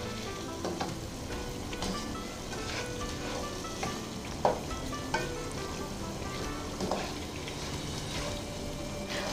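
Chicken cooking in a pan with sweet soy sauce, a dense continuous sizzle under repeated scraping and clacking stir strokes, up close and fairly loud, with no voices.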